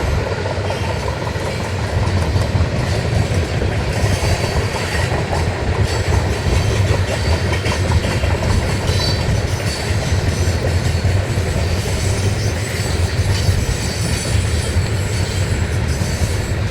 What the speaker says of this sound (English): Yes, that horn salute was for me.